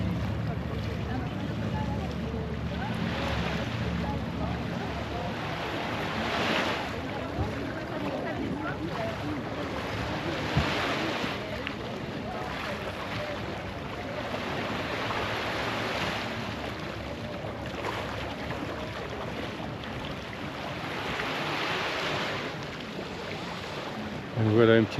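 Waves washing onto the beach at Escanar, Ibiza, a steady surging surf with slow swells rising and falling, heard with wind across the microphone while a person talks over it.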